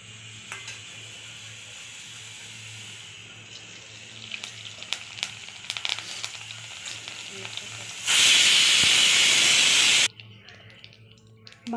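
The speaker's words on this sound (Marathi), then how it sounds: "तेल गरम करायला ठेवले, जिरं, मोहरी आणि कढीपत्ता टाकूया आपण सर्वप्रथम" Cumin, mustard seeds and curry leaves hit hot oil in a tempering for pav bhaji, giving a sudden loud, steady sizzle that lasts about two seconds before dropping off, after quieter kitchen noise with faint clinks.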